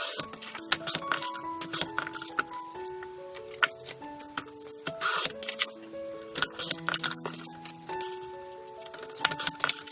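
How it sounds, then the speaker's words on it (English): Scissors snip pieces from old book pages, a run of short, crisp cuts and soft paper rustles at close range with no talking. "So I thought I'd just cut a few pieces out of these and then we can stick them in the book."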